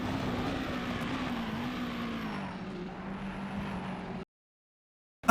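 Japanese Super Formula open-wheel race car engine in the rFactor 2 racing game, a steady loud onboard drone with a sustained tone that dips slightly, cutting abruptly to silence near the end.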